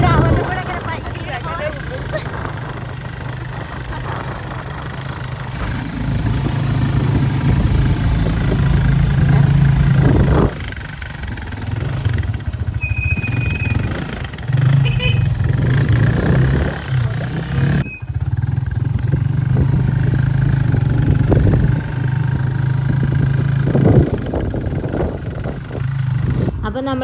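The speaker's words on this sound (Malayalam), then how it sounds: "അപ്പോൾ നമ്മൾ ബൈക്കിൽ പോയിക്കൊണ്ടിരിക്കുകയാണ്" A motorbike rides along a village road toward a main road in Africa, its engine droning steadily up close with wind rush, while someone talks over it throughout.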